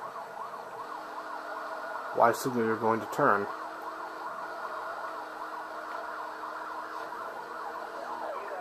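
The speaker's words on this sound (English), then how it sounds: "Got two Yelp sirens in this field." Police yelp sirens wail in Need for Speed Hot Pursuit (2010), a steady rapid up-and-down warble from pursuing cop cars that persists throughout, with someone speaking briefly over it.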